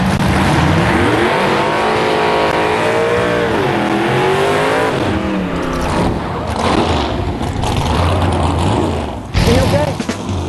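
Drag racing cars roar down a quarter-mile strip in a grudge race, loud engines rising and shifting pitch with revs and tire noise, while people shout and talk over the din.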